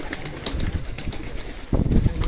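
Racing pigeons at a breeder's rooftop loft coo softly and close by, with short low calls repeating over faint background noise.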